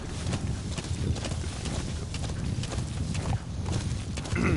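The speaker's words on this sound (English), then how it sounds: "I am about to get on my horse and ride in that direction" A horse gallops in the video game Metal Gear Solid V: The Phantom Pain, its rapid hoofbeats pounding steadily and loudly over a constant outdoor ambience.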